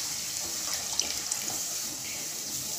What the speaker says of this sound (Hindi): तो अब इसके अंदर मैं लस्सी डाल दूंगी और लस्सी डालते हुए मुसलसल आपने चम्मच चलाना है